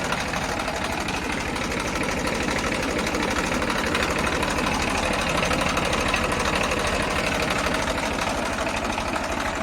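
A New Holland 3230 tractor engine idles with a steady, rapid diesel knock, a close and even rhythmic chugging that continues without change and has no talk over it.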